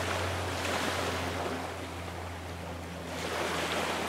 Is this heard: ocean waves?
yes